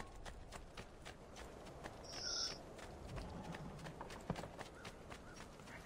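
Horse hooves clip-clop steadily in the video game Assassin's Creed 2, fairly faint and continuous against a low ambient background, with a brief sharp knock near the end.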